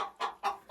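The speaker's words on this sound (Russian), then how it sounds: "Сидит курочка." A hen sitting in her nest clucks close by, a couple of soft, throaty calls spaced apart over a quiet background.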